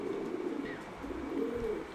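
Afshan grizzle racing homer pigeons coo softly in soft, repeated low murmurs, close by and fairly quiet, over a faint background hum.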